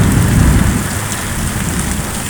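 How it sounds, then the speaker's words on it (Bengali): Heavy rain pours during a thunderstorm in Dhaka, a loud, dense, continuous roar of rain with a low rumbling undertone and no voices. "আজকে বেশ ভালো ঝড় হচ্ছে ঢাকাতে ঝড় এবং বৃষ্টি দুটাই হচ্ছে"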